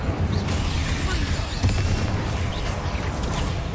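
Confringo fire spell blasts in Hogwarts Legacy, a steady rumbling roar of fiery bursts that runs through the whole stretch without a clear break, close and moderately loud.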